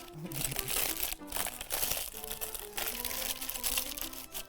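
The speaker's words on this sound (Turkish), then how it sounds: "Yağlı kağıt bunu bu şekilde böyle yerleştirmekte her zaman çok zorlanıyordum. O yüzden şöyle yine onu buruşturuyorum." Baking parchment paper is crumpled by hand in a kitchen, giving loud, close, continuous crinkling and crackling with brief pauses between squeezes, and no talking over it.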